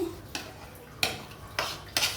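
A spoon scrapes and clinks against a pan as chickpea dal halwa is stirred while it fries, four sharp metallic strokes at uneven intervals over a quiet background.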